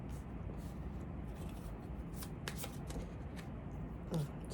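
Tarot cards being shuffled by hand close by, a soft, faint, steady riffling and sliding with light flicks and taps, with no talking over it.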